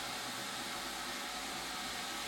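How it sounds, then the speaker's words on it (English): A vacuum cleaner hoovers up debris during a DIY woodworking project, a steady, loud broadband whoosh holding constant throughout with no pauses or talk. "So this is really satisfying, hoovering all this up."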